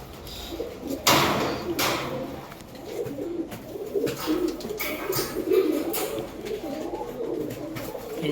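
Pigeons coo softly and repeatedly inside a loft, their low throaty calls rolling on steadily with a few brief rustles and knocks, fairly close and unbroken by talk.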